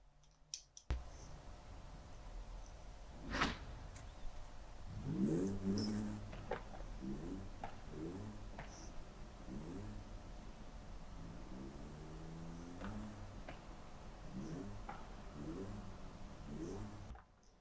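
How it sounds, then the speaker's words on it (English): A car engine starts with a sharp crank, then revs up and settles repeatedly in rough bursts, heard close and alone with no talking. "As this thing revs, you can see the whole car move side to side"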